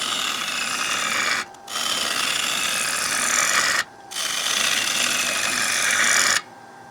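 Wood lathe gouge hollowing the inside of a round-bottom bowl: a loud, continuous rasping cut that runs in three long passes, each broken by a brief pause, with no talking.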